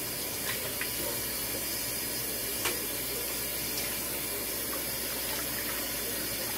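Tap water runs steadily over raw pork chops being rinsed at a sink, a continuous hissing splash with a few faint clinks, heard alone without talk.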